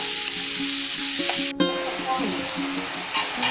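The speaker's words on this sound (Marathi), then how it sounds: "कांदा ही चांगला परतून घ्यायचा अगदी लालसर होईपर्यंत भाजायचा" Onion fries in a pan until reddish brown, a steady close sizzle with a few clicks and brief tonal ringing from the cookware, and faint voices in the background.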